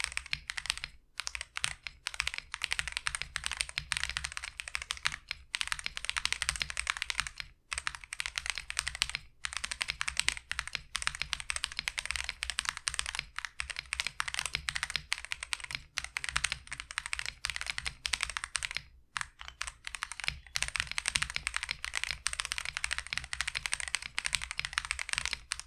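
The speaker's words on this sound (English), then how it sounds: "This is how it sounds right out of the box." Continuous typing on a new, unmodified Womier G75 mechanical keyboard, rapid clacking keystrokes with brief pauses, close and clear, no talking.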